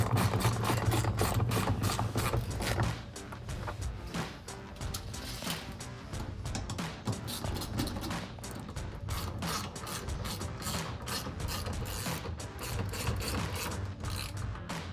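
Fasteners being tightened on a car bumper area while installing LED projector headlights, a rapid ratcheting tool clicking in quick repeated bursts, close and fairly quiet.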